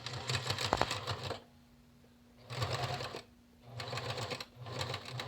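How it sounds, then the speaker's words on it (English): A sewing machine stitching along the folded edge of a fabric mask in bursts of rapid, even clatter, starting and stopping three or four times with quiet hum in the pauses and no speech. "you're going to turn the ends under about 1/2 of an inch and stitch it down right along the edge"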